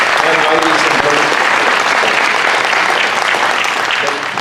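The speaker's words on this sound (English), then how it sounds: "Let's all give him a round of applause." Loud, close round of applause from an audience after a police chief's speech at an airport event, dense clapping mixed with faint crowd murmur, tapering slightly at the end.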